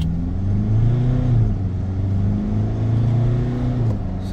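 Fiat Fullback pickup with a diesel engine and a known DPF and oil dilution fault, heard from inside as it accelerates and changes gear, a steady mid-pitched engine drone rising and falling with shifts, loud and close.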